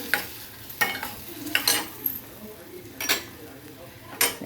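Tomato going into red chili masala frying in a pan, with a steady sizzle under repeated sharp scrapes of a spoon stirring against the pan, close and moderately loud.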